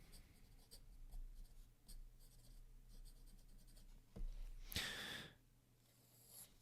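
Kaweco Perkeo fountain pen with Noodler's Baystate Blue ink scratching softly across paper in short strokes, faint and close, with a brief louder rustle near the end.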